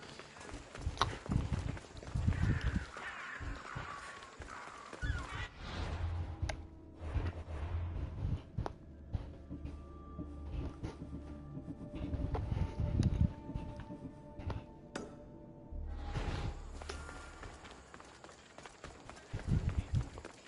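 Steady clip-clop of horse hooves trotting along in Assassin's Creed Odyssey, repeating rhythmically for a long stretch with game-like background sounds and music mixed in.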